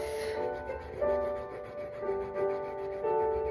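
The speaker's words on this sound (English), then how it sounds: "I am scratching off." Steady rubbing scrape of a fingernail working across an advent calendar label, close and fairly quiet, with slightly louder strokes about once a second.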